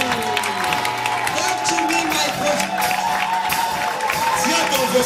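A church congregation applauds and cheers steadily, a dense wash of clapping and crowd voices filling the room throughout, with a voice talking over it.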